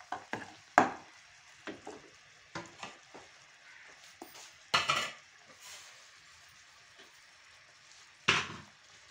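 Rice flour being stirred into hot sugar syrup for rice barfi, giving a series of scraping stirring strokes and soft sizzling in a pan, moderately close with uneven rhythm.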